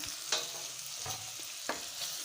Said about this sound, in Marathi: हिंग टाकल्यावर भाजी पुन्हा सर्व परतून घ्यायची आहे